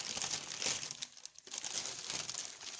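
A small plastic bag crinkles in close, irregular bursts while it is handled, with a short pause in the middle.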